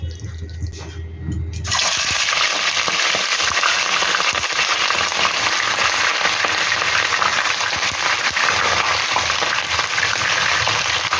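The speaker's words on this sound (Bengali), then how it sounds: "তেল আমার গরম হয়ে গিয়েছে। এবার আমি এর মধ্যে তুলে দেব ধুয়ে পরিষ্কার করে রাখা চিকেনগুলো।" Washed chicken pieces are dropped into hot oil in a kadai for kadai chicken and burst into a loud, continuous close-up sizzle that carries on steadily after a quieter opening moment.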